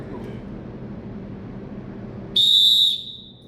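A basketball referee blows one sharp, loud whistle blast lasting about half a second after a stretch of low room noise and muffled talk.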